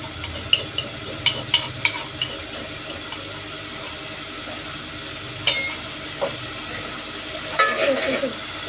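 Ginger garlic paste with onions fries in a pan, giving a steady soft sizzle broken by scattered clinks and scrapes of a stirring spoon.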